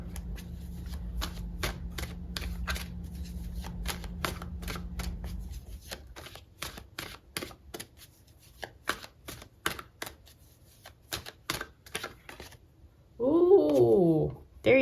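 Tarot cards being shuffled by hand during a love card reading, a long run of quick, crisp riffling flicks, close and fairly quiet, with a short voice near the end.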